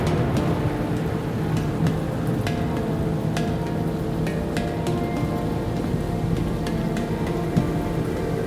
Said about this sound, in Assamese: চাব পাৰে কেনেকুৱা বৰষুণ দিছে